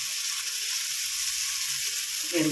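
Steady, loud sizzling of mustard seeds, dal, onion and crushed garlic in hot oil in a pan, a continuous bright hiss without a pause and with no speech over it.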